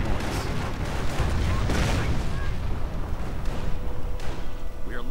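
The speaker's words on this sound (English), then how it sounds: "a Calliope barrage right into the side of the Panther and into the building" Calliope rocket artillery barrage in the Company of Heroes strategy game, a dense continuous roar of rapid booms and blasts striking a Panther tank and a building, loud and sustained throughout.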